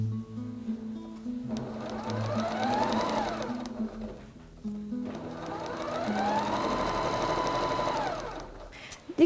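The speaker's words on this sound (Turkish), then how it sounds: "Bunu ikiye katlayıp yanından düz dikişle dikeceğim." A sewing machine runs a straight stitch along the side of folded fabric for patchwork. Two close, steady bursts of motor whir rise and fall in pitch, separated by a short pause.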